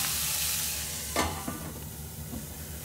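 Dates fry over high heat in a pan with apple, a bright sizzling hiss that fades somewhat, broken by a sharp stir or clatter and a few smaller knocks.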